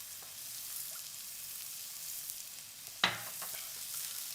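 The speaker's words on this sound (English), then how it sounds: "So while that is frying, put in your garlic." Food frying in oil in a pan with salt added, a steady soft sizzle running throughout with one brief sharper crackle near the end, no talking.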